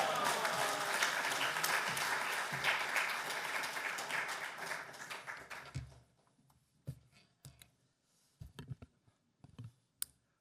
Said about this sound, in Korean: 할렐루야로 하나님께 영광 돌리며 박수로 환영하겠습니다.